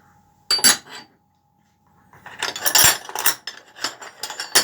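Metal wrenches and hand tools, including a Boni 7/8 spanner, rummaged through in a workshop, giving one short clatter, a pause, then a longer stretch of repeated metallic clinks and scrapes close by.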